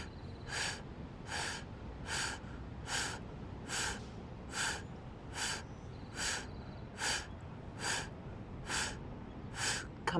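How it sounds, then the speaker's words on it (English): Breath of fire yoga breathing during a gentle yoga session, rapid rhythmic forceful exhales through the nose, about a dozen evenly spaced puffs over quiet background, close and clear. "And then here, breath of fire."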